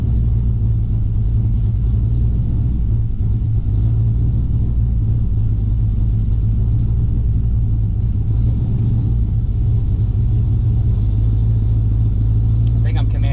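A car with a GM Gen 3 V8 engine coasting down toward idle while still slightly cold, giving a low, steady rumble throughout with a person talking over it.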